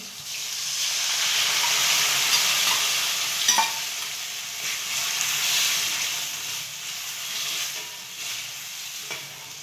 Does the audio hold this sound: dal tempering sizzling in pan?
yes